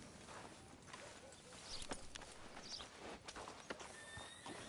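Horse hooves clip-clop steadily in a Western video game, with a horse's whinny rising partway through and another near the end, as characters talk over the scene.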